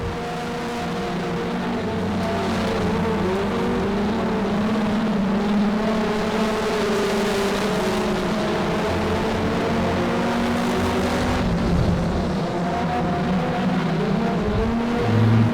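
Race cars circle a speedway oval at Monarch Motor Speedway, their engines droning and rising in overlapping harmonic whines as the pack works through the turns and down the back straightaway, steady and loud throughout.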